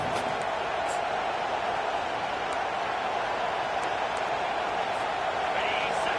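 A big college football stadium crowd roars as a steady, wide wash of noise late in the first half, loud and unbroken, with faint whistles or shouts poking through.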